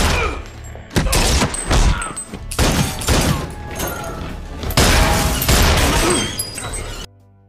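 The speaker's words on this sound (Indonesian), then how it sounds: "Frank di sana juga ikut baku tembak dengan Zan" A shootout in an Iko Uwais action film erupts in loud, dense bursts of gunfire with heavy booms and impacts, repeated in clusters for several seconds before cutting off abruptly.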